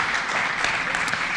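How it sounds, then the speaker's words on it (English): An audience claps in a dense, steady burst of applause that fills the whole short moment, welcoming a guest from the A21 organization. "give her a round of applause to make her feel welcome"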